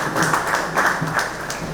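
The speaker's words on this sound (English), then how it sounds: "Ladies and gentlemen, a round of applause." A civic centre audience at an outreach programme gives a round of applause for a director called to the podium, a steady wash of clapping at moderate level throughout.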